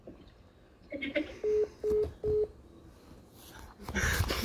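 Phone keypad dialing tones: a few soft beeps, then three clear, evenly spaced touch-tone beeps in quiet, with talking and handling noise starting at the end.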